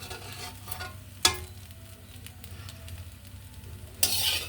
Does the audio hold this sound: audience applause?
no